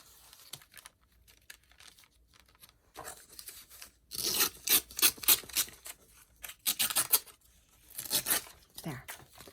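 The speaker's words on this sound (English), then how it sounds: "And then tear it." Paper is torn by hand in several quick ripping bursts, close and crisp, with quieter rustling and handling between them in a crafting session.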